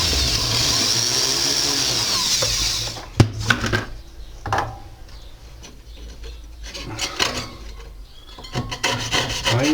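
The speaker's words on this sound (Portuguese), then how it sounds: "eu vou furar para minha chapa não se desmanchar" A drill bores a hole in a sheet of jewellery metal: a steady, bright whir for about three seconds, then intermittent rasping and scraping strokes with short knocks.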